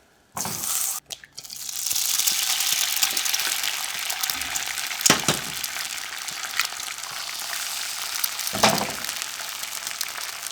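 Scrambled eggs hit hot butter in a pan and set off a sudden loud, bright sizzle. The dense frying hiss then holds steady, interrupted by a couple of short clatters.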